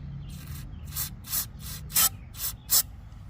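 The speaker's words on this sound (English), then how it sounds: "we're gonna do the old carb spray in there" Carburetor cleaner hisses in six or seven short sprays into the carb of a Toro Recycler 22 electric-start lawn mower, each burst sharp and close, separated by brief pauses.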